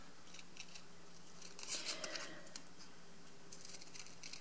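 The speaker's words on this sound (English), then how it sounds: "just cut round with your snips" Metal snips cut around a piece of foil, giving a few faint, crisp clicks close by in a quiet room, with the clearest cut about midway.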